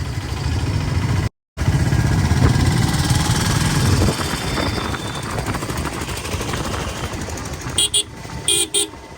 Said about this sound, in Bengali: ব্রিজের উপরে ভাই জ্যাম দেখো কেমন।